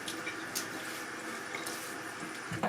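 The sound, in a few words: water from a tap splashed onto the face before shaving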